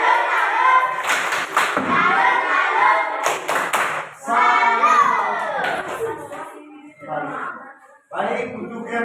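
Schoolchildren in a classroom perform a rhythmic group clapping chant for a presenting group, bursts of patterned claps mixed with chanted children's voices and a few thumps.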